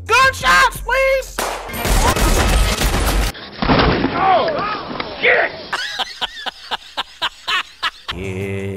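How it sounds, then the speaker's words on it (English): Gunshot sound effects arrive in an edited string of sharp bangs and booms, several of them loud and close, interleaved with snatches of voice and a rapid rhythmic run of shots. "Gunshots, please"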